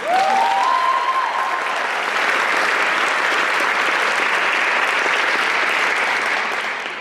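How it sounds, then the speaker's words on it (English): Sustained applause fills a commencement-themed awards celebration for Wellesley College's class of 2022, a dense crowd clapping loudly and steadily for several seconds with a brief cheer-like tone at the start. "Can we have a round of applause for that?"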